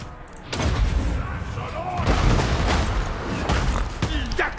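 Units firing in Total War: Warhammer 2, with a dense clatter of gunfire and booming volleys running continuously throughout, loud and busy, while a voice talks over the battle noise.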